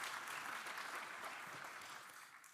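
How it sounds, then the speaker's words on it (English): Audience applause for Danush at an agriculture and climate conference, a steady dense wash of many hands clapping at moderate distance, holding even and then easing off slightly at the end. "round of applause for Danush"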